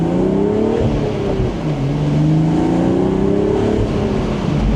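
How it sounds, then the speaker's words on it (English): With the windows up, a 2026 BMW Z4 M40i Final Edition, a manual convertible, pulls under slight acceleration, its exhaust giving a close, continuous droning tone that rises and dips with the throttle. "let's see if we can hear that exhaust."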